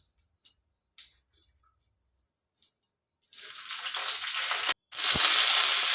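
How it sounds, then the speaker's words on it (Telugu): Mustard seeds, cumin and dried red chillies hit hot oil for a chutney tempering. After a few faint kitchen clicks, a loud, steady sizzle bursts in, stops for a moment, then returns just as strong, with no one talking. "తర్వాత చట్నీకి అయితే పోపు పెట్టుకుంటున్నాను"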